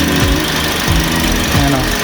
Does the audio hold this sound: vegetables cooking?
no